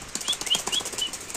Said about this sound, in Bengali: রেসার কবুতর ছটফট করে